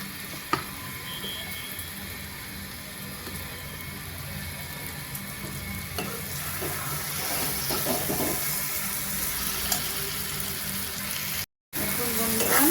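Prawn curry with potatoes sizzles and fries steadily in a pan, with soft stirring scrapes over a continuous crackle, close and moderately quiet.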